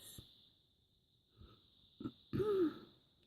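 A person sniffs and clears their throat close to the mic in a quiet indoor room, a few short nasal snorts ending in a longer raspy, wheezy sniff.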